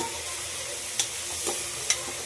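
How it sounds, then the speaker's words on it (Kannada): Tomato and spices fry in a pan with a steady soft sizzle, while a utensil stirs and scrapes, giving a couple of sharp clicks against the pan. "ಚೆನ್ನಾಗಿ ಮಿಕ್ಸ್ ಮಾಡಿಕೊಳ್ಳೋಣ."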